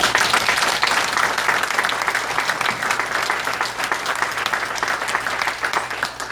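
A gathered audience at a 90th anniversary event gives a steady round of applause. The clapping is strongest at the start and stays close and continuous throughout, with no talk over it.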